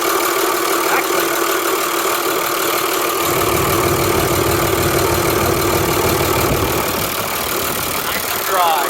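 An Oliver 1755 tractor engine idles close by, a loud, steady mechanical drone with a constant whine. A deeper rumble swells in about a third of the way through.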